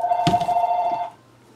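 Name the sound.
telephone ringing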